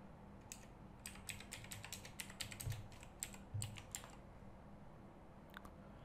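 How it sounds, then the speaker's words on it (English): A password tapped out on a computer keyboard, a steady burst of crisp keystrokes in close succession, then a few scattered presses after a pause, close and fairly quiet, no speech. "And now I just simply type my password."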